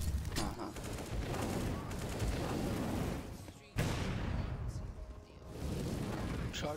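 Rapid gunfire rattles in a CS:GO match, dense bursts of shots rolling on almost continuously with a brief break midway, loud and close, with faint voices mixed underneath.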